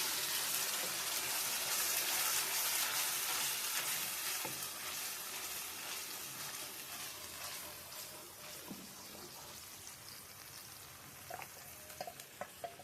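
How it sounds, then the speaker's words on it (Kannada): A ground tomato and onion paste fries steadily in a pan for a crab curry, giving a continuous close sizzle that fades somewhat over time, with faint scrapes and clicks of stirring near the end. "ಟೊಮೊಟೊ ಮತ್ತು ಈರುಳ್ಳಿ ಎರಡೂ ಇದರಲ್ಲಿ ಹಾಕಿ ಇದನ್ನು ಕೂಡ ಚೆನ್ನಾಗಿ ಫ್ರೈ ಮಾಡೋಣ"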